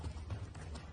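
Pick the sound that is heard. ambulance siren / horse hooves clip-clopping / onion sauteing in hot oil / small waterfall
horse hooves clip-clopping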